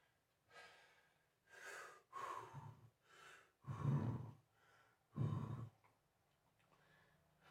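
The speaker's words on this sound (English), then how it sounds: "A little breathing exercise there." Heavy, audible breathing as a person catches their breath: several deep inhales and exhales in an uneven rhythm, close and fairly loud, with no talking.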